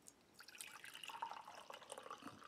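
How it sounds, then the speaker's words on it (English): Apple cider pours into a mug in a soft, steady trickle lasting a couple of seconds, quiet and close, with no talking. "Pour in this mug."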